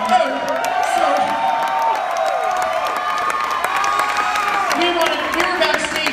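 A seated audience at a drag show at RuPaul's Battle of the Seasons in Kansas City roars with sustained cheering, whoops and shouts, loud and dense throughout, with clapping mixed into the crowd noise.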